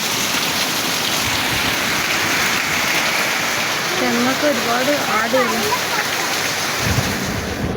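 Heavy, steady rain with strong wind roars throughout, with a brief voice rising in the middle and a low rumble near the end.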